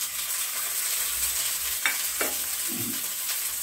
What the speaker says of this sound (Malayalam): ഒരു പാനിനകത്ത് അര സ്പൂൺ എണ്ണ ഒഴിച്ച് മുട്ട നമുക്കൊന്ന് വരട്ടിയെടുക്കാം